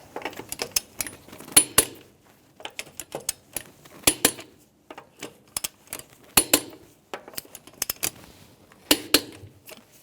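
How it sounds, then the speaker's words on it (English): A torque wrench tightens the wheel lug nuts on a 2014-2018 Subaru Forester to 89 foot-pounds in a star pattern, producing a close series of sharp metallic clicks and clacks in irregular clusters with brief pauses between nuts. "We're going to torque our wheels to 89 foot-pounds in a star-like pattern."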